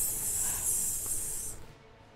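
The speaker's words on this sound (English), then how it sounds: "Good, first aid spray." First aid spray from the Resident Evil 4 video game, a single loud, sharp hiss of aerosol lasting about a second and a half before stopping abruptly.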